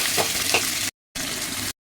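Steady broadband sizzle of tomatoes, mustard seeds and curry leaves frying in a hot pan for chicken biryani, with a couple of stirring scrapes, cutting out briefly before resuming.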